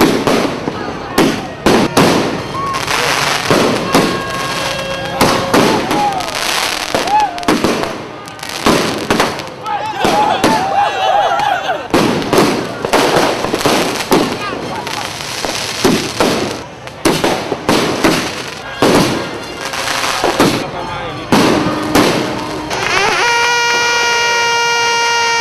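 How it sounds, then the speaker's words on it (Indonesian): New Year's Eve fireworks in Banda Aceh crack and boom repeatedly, loud and close, in irregular bursts over a long stretch, with crowd noise, talk and occasional horns in between. "kita bisa mendengarkan dari tadi sudah mulai ada letupan-letupan kembang api"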